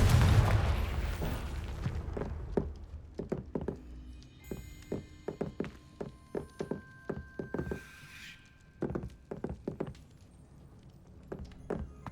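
Confringo fire spell blasts in the video game Hogwarts Legacy: a deep boom at the start, then a series of sharp thuds and crackling bursts in an irregular rhythm.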